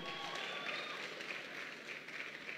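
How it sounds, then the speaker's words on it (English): Audience applause at a school competition, the crowning moment of a national contest, a dense, steady wash of clapping hands from a crowd, heard at a distance and fairly quiet throughout. "Let's give them a round of applause."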